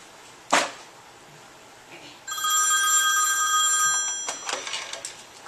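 A telephone bell rings steadily for a few seconds on a call-in talk show set, preceded by a sharp knock and followed by faint handling sounds.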